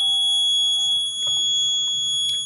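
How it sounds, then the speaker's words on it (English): An electronic buzzer on a Raspberry Pi, triggered by a PIR motion sensor. It gives a continuous, piercing, alarm-like tone that holds steady throughout, close and clear, with a faint clatter underneath. "So this is the buzzer output."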